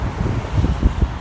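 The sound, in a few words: strong wind in Boston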